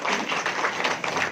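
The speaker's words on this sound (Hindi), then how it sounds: "अपने लिए ताली बजाएं" An audience at a Brahma Kumaris Women's Day programme claps together in a steady, dense wash of applause that holds evenly for a little over a second with no talking over it.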